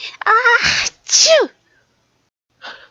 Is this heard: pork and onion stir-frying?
no